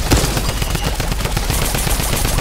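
Rapid bursts of gunfire from a primal shotgun, a large purple drum-fed weapon in Fortnite, firing in a loud, continuous stream of close shots with no talking.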